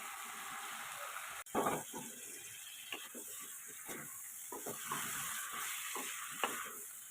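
Boiled ridge gourd tipped into a pan of spiced masala with turmeric, chilli and coriander powder, setting off a steady hiss and sizzle with scattered scraping stirs, close and moderately loud, no talking.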